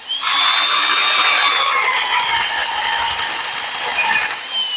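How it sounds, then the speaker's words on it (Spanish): Homemade conical drill bit boring into the hard steel plate of an Eaton axle shaft, a loud, steady high-pitched metallic whine that holds for several seconds before tapering off. "Este material de este eje es diferente al otro. Está un poco más fuerte, más duro de perforar."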